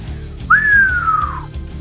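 A single loud, sliding whistle, starting high and gliding downward over about a second, over a low background rumble.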